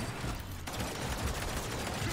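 Rapid bursts of gunfire rattle continuously, dense and loud, rounds fired in Paladins with no pause.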